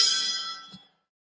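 A boxing ring bell strikes once at the introduction of the referee for a super bantamweight bout, its bright ringing tone decaying over about a second, followed by a faint soft thud before silence.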